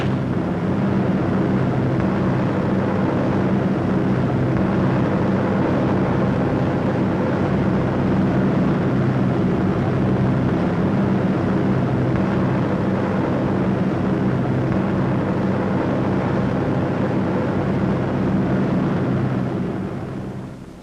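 B-17 Flying Fortress bombers fly in formation, their engines blending into a steady, loud, continuous drone that holds for about twenty seconds before easing off slightly at the end.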